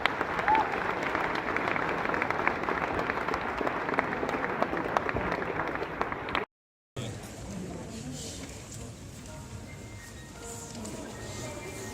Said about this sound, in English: can we have one more round of applause for them?